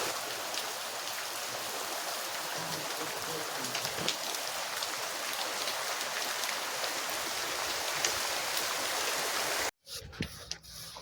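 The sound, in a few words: rain falling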